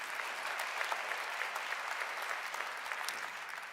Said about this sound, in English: Yes, that's definitely worth clapping for.